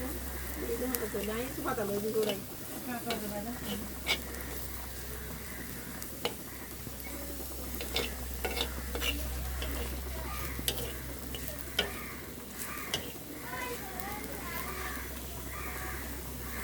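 Shrimp and onions fry in a pan while being stirred, giving a low continuous sizzle with scattered scraping clicks; a voice talks over it now and then, and a steady low hum sits underneath.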